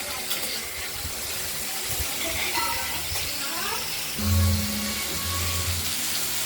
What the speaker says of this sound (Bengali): পটলগুলো আমরা ধীরে ধীরে ভেজে নিচ্ছি